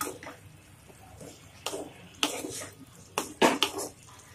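A spoon stirs and mixes posto chicken, a Bengali poppy-seed chicken dish, in a pan, giving a handful of irregular scraping and clinking knocks against the metal over a quiet background.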